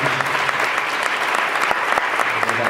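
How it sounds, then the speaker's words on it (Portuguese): Applause fills a Portuguese-language civic engagement event, a steady dense wash of clapping from a hall audience that continues throughout without a break. "eu gostaria de convidar a todos uma salva de palmas aqui"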